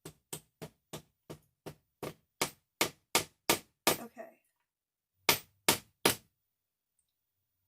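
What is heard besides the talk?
hammering while making a picture frame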